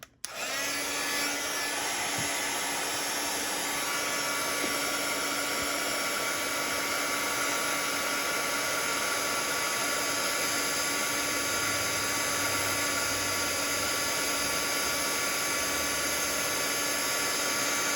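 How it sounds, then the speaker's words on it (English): A heat gun blows hot air onto papercraft, switching on abruptly and holding a loud, continuous whooshing roar with a steady whine throughout. "Oh, the heat gun."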